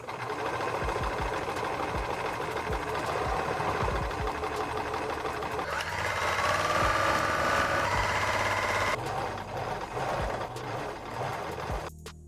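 A sewing machine runs steadily while sleeves are stitched onto a T-shirt, a close mechanical whirr with rhythmic needle knocking that pauses and restarts near the end.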